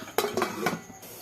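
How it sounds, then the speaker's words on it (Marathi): A lid set onto a pot holding two cups of water for steaming rice-flour modak gives a quick run of three or four light metallic clinks, close and quiet, then falls silent. "हे पाणी उकळण्यासाठी झाकून ठेवूया."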